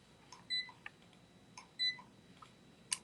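Checkout scanner beeps as sold items are rung in at a jewelry sale, with several short, clear electronic beeps spaced apart, some in quick pairs, fairly near over quiet background.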